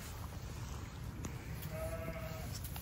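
A lamb suckling from a sheep gives one short, faint bleat partway through, over a quiet, steady background hiss.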